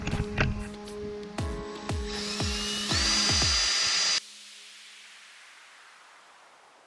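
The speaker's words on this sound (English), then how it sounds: "the next thing we gotta do is grind down this area in here where we had pieces of the Sterndrive break off" A power grinder smooths a gouged, damaged area on a boat's sterndrive, with rhythmic scraping bursts and clattering that build into a loud sustained high-pitched whine, which then cuts off abruptly, leaving faint hiss.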